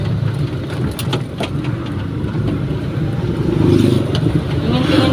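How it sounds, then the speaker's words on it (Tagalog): Busy road traffic with many cars passes close by a ride, a loud, continuous engine rumble and road roar that swells toward the end, with no voices. "Madaming sasakyan."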